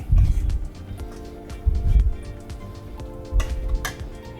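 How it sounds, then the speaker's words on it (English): Ground pork and cured prawn dumpling filling is worked together in a bowl, giving soft, irregular wet thumps and squelches in bursts, with faint clinks between them. "put my pork into the bowl, put my cured prawn into the bowl, start mixing that"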